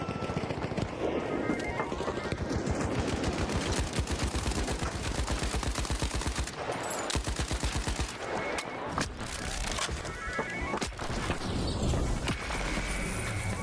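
Rapid bursts of gunfire in the shooter game THE FINALS, loud and dense, with repeated volleys and short pauses across a chaotic firefight, no talk over them.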